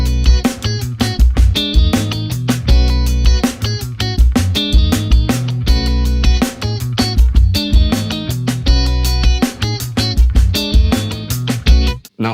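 A busy, driving funk groove with dense rhythmic strokes and muted chops, strong low end under the guitar, played continuously and loud for about twelve seconds without any talking.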